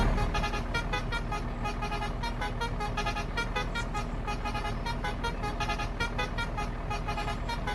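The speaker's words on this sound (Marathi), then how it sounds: "बघा किती मस्त हॉर्न असतं" In the Truck Simulator video game, a truck horn blares in a steady, sustained honk with a slight pulsing texture. It sits over a constant engine drone and sounds loud and close throughout.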